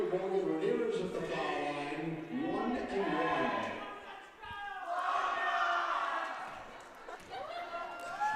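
Home crowd at a girls' varsity basketball game against Dover cheering loudly in the gym, with rising bursts of shouts and yells that swell and dip across several seconds, near and boisterous.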